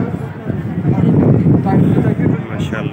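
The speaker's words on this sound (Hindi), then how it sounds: "माशाल्लाह से ठंडी ठंडी हवा चल रही है" Cool summer wind blowing across the open outdoor courtyard of Faisal Masjid in Islamabad, a steady loud rush buffeting the microphone throughout.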